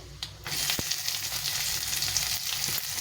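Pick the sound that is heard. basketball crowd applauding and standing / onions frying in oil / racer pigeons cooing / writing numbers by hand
onions frying in oil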